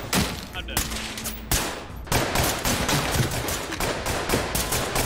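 Sustained, loud gunfire in the video game Ready or Not during a SWAT raid, continuous rattling bursts with brief breaks throughout, with voices faintly underneath.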